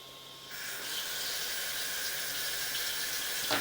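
Water runs steadily from a tap in a downstairs bathroom of a house, starting with a soft hiss and swelling into a constant, fairly close rush that continues alone without speech.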